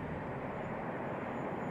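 A Lufthansa Boeing 747-8 jet on a flutter test flight roars as a steady, loud, broadband engine rush lasting a brief moment.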